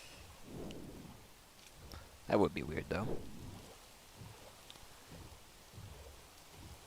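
Minecraft rain hisses softly in the background while someone talks over it, with a few faint low rumbles mixed in.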